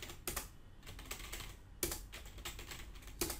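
Text entered on a computer keyboard in AutoCAD: a steady run of rapid, close key clicks with a few sharper strokes, no speech.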